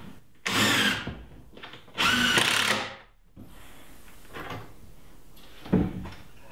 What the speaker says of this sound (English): Now I'm going to come back with some 2-inch screws and make sure everything is fastened to that back